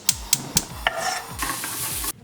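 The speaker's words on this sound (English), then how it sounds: "go straight over to our pan and start frying and getting our omelette ready" Omelette mixture sizzles in a frying pan while a utensil scrapes and knocks against the pan several times, close and fairly loud, before cutting off abruptly.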